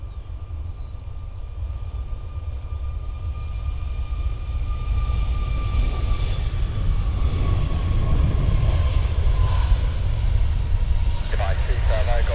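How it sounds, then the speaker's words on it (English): A Boeing 737 MAX's engines spool up at Stansted Airport, a steady broadband roar swelling gradually with a rising whine, heard from a distance. "Right, 737 MAX is spooling up."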